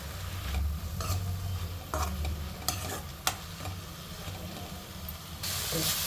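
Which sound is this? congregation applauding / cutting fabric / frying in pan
frying in pan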